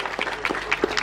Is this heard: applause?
yes